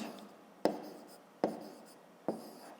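Numbers being written by hand on paper during a fifth-grade maths subtraction, three sharp pen taps spaced under a second apart, each followed by a short scratching stroke, close and quiet, with no talk.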